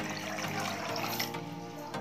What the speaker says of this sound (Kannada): ಒಂದು ಪಾತ್ರೆಗೆ ನಾನು ಈ ಗ್ಲಾಸ್ನಲ್ಲಿ 2 ಲೋಟ ನೀರು ಹಾಕ್ತಾ ಇದ್ದೀನಿ.